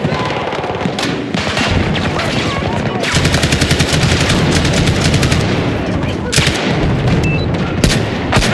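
Type 88 light machine gun in Battlefield 2042 fires in sustained loud automatic bursts, a dense rapid rattle of shots with booming impacts and battle noise filling the whole stretch.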